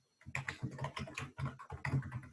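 Rapid, steady typing on a computer keyboard, close and fairly quiet, with an even patter of keystrokes and no talking.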